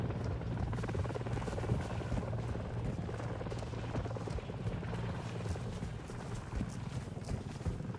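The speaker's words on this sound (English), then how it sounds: "The helis are loud." Helicopters in Call of Duty: Modern Warfare II thrum with a constant, loud rotor chop. The dense throbbing drone holds steady throughout, with no break.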